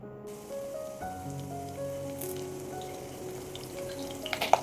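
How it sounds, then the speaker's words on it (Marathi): Crushed garlic and curry leaves fry in hot oil, giving a steady, rain-like crackling sizzle at close range, with a faint tonal hum beneath and a few sharper pops near the end. "लसूण चांगला तेलामध्ये परतून घ्यायचा"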